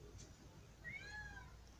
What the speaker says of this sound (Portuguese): tem um miando lá fora e tem outro aqui